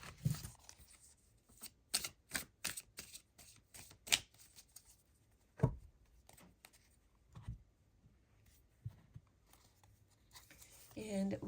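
Tarot cards handled and laid down one by one, crisp close flicks and soft slaps on a table in scattered bursts, with quiet pauses between.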